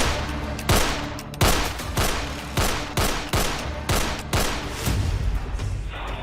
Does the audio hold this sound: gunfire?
yes